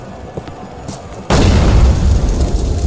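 Explosion in the video game GTA IV The Lost and Damned, a sudden loud boom after a quieter stretch, followed by a sustained rumbling roar.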